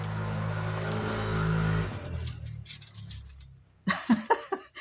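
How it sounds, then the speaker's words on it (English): Noisy motorbike passing by, its engine drone loud and steady at first, then fading away, followed by a few louder knocks close to the recorder. "That was a noisy motorbike warning coming through."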